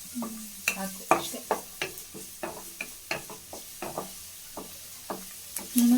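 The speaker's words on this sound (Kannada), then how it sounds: "ಈರುಳ್ಳಿ ಸ್ವಲ್ಪ ಕಲರ್ ಚೇಂಜ್ ಆಗೋ ತನಕ ಹುರ್ಕೋಬೇಕು" Onions frying in oil while being stirred for Gobi Manchurian: a soft continuous sizzle broken by a regular series of spoon-against-pan stirring strokes, close and even in rhythm, with no speech.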